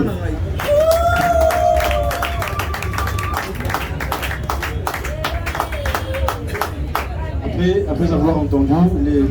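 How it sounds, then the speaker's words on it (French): An audience at a hotel opening ceremony bursts into clapping and cheering, with scattered whoops rising over steady applause. Some voices shout and talk through the noise, which swells again toward the end. "est-ce qu'on peut applaudir s'il vous plaît?"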